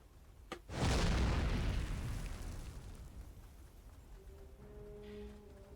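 Artillery shell explodes in Warhammer Mark of Chaos, a sharp crack followed by a loud, rolling boom that slowly fades, leaving a faint tonal hum and low rumble.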